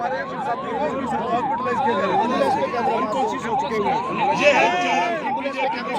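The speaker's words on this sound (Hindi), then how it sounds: "आपको एम्बुलेंस लेके जाएंगे, वो देखिए एम्बुलेंस" An ambulance siren wails in a steady rising-and-falling pattern, loud and close, with people at a protest talking and shouting over it throughout.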